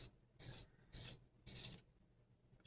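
Three short, soft scraping bursts of an eyebrow pencil being turned in a small sharpener, quiet and close with brief pauses between them.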